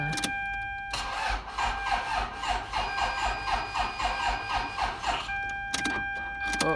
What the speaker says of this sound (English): Start up this car.